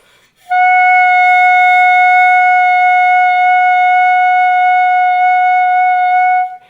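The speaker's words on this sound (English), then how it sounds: "And then I just hold my sound out for a while." A single steady clarinet tone holds unwavering for about six seconds, clear and loud, then cuts off, alone without any talking.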